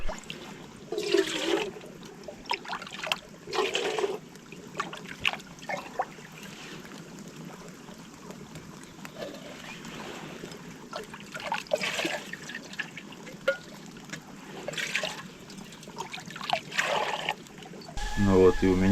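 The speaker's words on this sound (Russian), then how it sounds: "Ну вот и у меня теперь волнуется чайничек." A kettle heats on a wood stove in a hunting cabin, giving off intermittent trickling and bubbling water sounds at moderate loudness, with faint muffled background noise between bursts.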